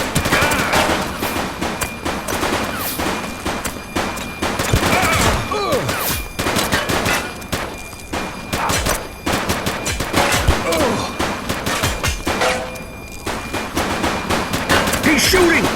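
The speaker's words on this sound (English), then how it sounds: "He's shooting!" Rapid automatic gunfire rattles in The Precinct, bursts of shots crackling almost continuously over a busy mix of shouting voices and action sounds, loud and close throughout.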